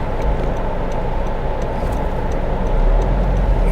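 A 2022 Honda Civic Sport accelerating, heard as a loud, steady rumble of engine and road noise from inside the car that swells slightly toward the end, with no talking.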